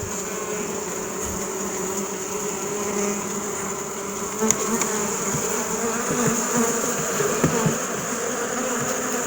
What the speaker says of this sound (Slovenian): Čebela takole zleti iz panja.